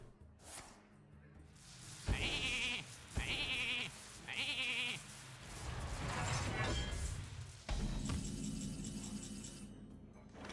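Sheep bleat three times in quick succession from the Mass Sheep effect in the Hearthstone card game, followed by magical whooshes and a crashing game effect, with a voice talking over parts of it.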